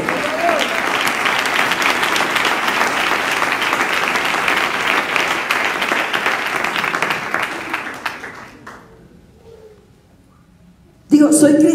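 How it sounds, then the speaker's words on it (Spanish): A church congregation at a Pentecostal service breaks into loud, sustained applause that holds steady for several seconds, then fades away to quiet before a voice starts speaking. "Dale un aplauso."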